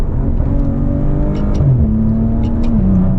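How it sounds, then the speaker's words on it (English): Maserati Ghibli's 3-liter V6 with an 8-speed automatic pulling hard under acceleration, a loud, close, continuous engine drone rising in pitch through the revs, with a brief dip at a gear change. "This is a really good sounding 3-liter V6."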